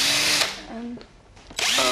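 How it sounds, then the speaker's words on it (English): A power drill whirs loudly in short bursts, spinning up, dropping off into a quiet gap, then revving again. "I think that's a drill, not a paintbrush."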